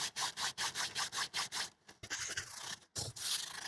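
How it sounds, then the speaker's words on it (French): Fresh mint leaves are crushed by hand on a cookie sheet, giving a close run of rhythmic rubbing scrapes, then a longer rustling grind with brief pauses. "pour écraser ma menthe, ça va être beaucoup plus facile"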